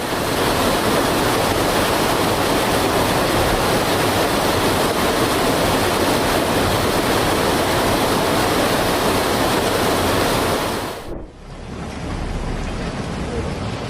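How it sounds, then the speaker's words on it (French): Loud, steady roar of rain-swollen muddy floodwater from a mudslide rushing like a river, a broad churning torrent up close, cutting off abruptly near the end to a quieter rumble. "La coulée de boue gonflée par la pluie s'est transformée en une rivière rapide"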